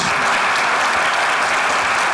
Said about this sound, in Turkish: Selen'e büyük bir alkış